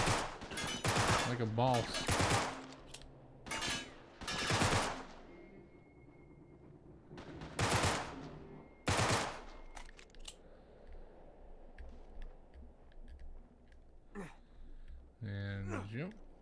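Bursts of gunfire in the video game Uncharted 3 at a boat graveyard, sharp repeated shots in several clusters mixed with someone talking over the action.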